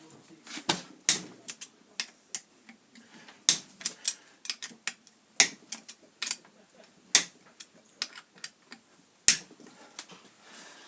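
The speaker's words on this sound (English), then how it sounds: "make sure that Allen key is firmly in there, and simply waggle it" Allen keys worked loose from bolts on an Interpump 44 series pump head, a sparse, irregular series of sharp metallic clicks and knocks, close and fairly loud against near silence.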